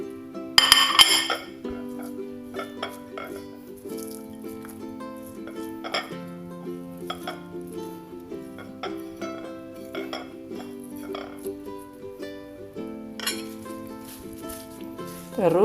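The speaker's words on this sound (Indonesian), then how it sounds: "Terus diaduk-aduk biar merata semua sama ikan, sama bumbunya, daun kemanginya, daun serainya." Metal utensil clinks and scrapes against a pan while fish is stirred with spices, basil and lemongrass for Sundanese pepes, a series of close, irregular taps and clatters with faint sizzling between them.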